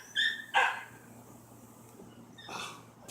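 A dog in a backyard gives two short yips, then a softer whine a couple of seconds later, faint against a quiet background hum.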